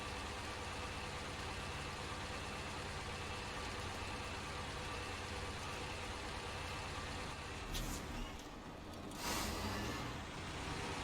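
Heavy farm machine from a farming simulator game driving slowly, a steady broadband engine drone throughout with a brief hiss and shift near the end, no talk.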